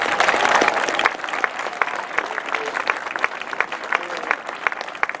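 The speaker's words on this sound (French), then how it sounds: "Alors, s'il vous plaît, applaudissez." A crowd at an outdoor Fête nationale du Québec celebration on Île Bizard applauds, the clapping loudest at first and then thinning into scattered, sharper individual claps.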